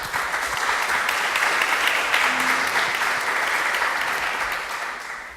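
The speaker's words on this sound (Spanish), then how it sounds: "Lo recibimos con un fuerte aplauso" Warm, sustained applause from a seated audience welcoming a speaker at a lecture on wastewater and soil treatment, a dense even roar of clapping that fades slightly at the close.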